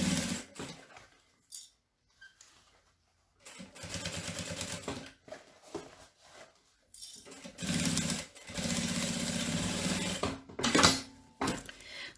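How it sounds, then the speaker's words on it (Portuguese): A sewing machine stitching the side seam of a fabric bag, with several loud whirring runs of a few seconds each broken by pauses, including slow stitching and a backstitch. "Quando eu venho costurar aqui, eu vou devagar e ainda dou um retrocesso."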